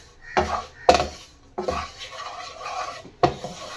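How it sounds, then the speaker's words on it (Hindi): Gram flour being stirred and roasted in a pan for besan barfi, a spoon scraping and knocking against the metal in four distinct strokes, close and fairly loud, with quieter rubbing between them. "बेसन को अच्छी तरह से रोस्ट करेंगे।"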